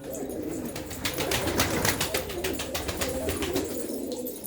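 A crowded loft of pigeons coos continuously, overlapping throaty calls and soft flutters forming a dense, steady murmur close by, with no one talking.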